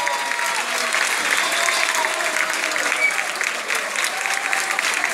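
Loud, sustained audience applause for Sonia at a social dance party, dense clapping from a large crowd with cheering voices mixed in, steady for several seconds.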